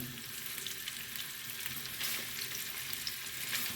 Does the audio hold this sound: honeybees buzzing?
no